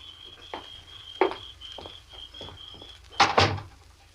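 In a radio drama scene, a door is opened as a sound effect: a few light clicks and handling taps, then a sharper double thunk of the latch and door, with a faint steady tone underneath.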